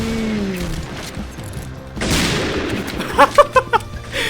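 Sniper rifle shots in the Point Blank online shooter, Barrett and Kar98k, with one loud broadband crack followed a second later by a quick run of four sharper, closer pops.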